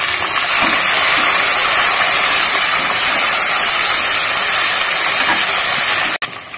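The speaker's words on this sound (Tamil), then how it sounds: "புதினா வந்து நல்லா சுருங்க சுருங்க நல்லா வதக்கணும்" Mint leaves sizzle in hot oil in a pan while cooking vegetable biryani: a loud, steady frying hiss with no break until a short clatter right at the end.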